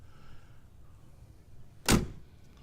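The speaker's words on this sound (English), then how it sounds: "it's a heavy door, so I'll put some effort into it. Good. Nice solid close." A single heavy door of a modified 1955 Chevrolet Bel Air thuds shut, a short solid impact after a quiet, faintly humming moment.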